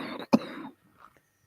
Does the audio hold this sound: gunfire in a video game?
no